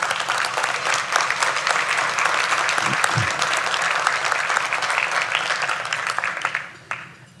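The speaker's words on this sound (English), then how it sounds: "Let's give them all an applause." Audience applause at a family services agency's 2024 annual meeting, steady clapping from a sizable crowd filling the room for about six seconds before fading out, with a brief low murmur partway through.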